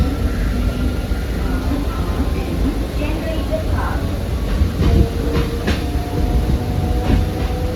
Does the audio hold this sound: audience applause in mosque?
no